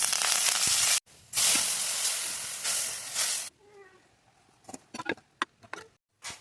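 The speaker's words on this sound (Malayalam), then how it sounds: "ഇതിലേക്ക് നമുക്ക് കുറച്ച് കരിവേപ്പില ഇട്ട് കൊടുക്കാം കേട്ടോ." Curry leaves sizzling in hot oil for a mackerel fish curry tempering, a loud burst of hissing spatter that stops sharply, followed by a softer tail with scattered clinks and brief voice sounds.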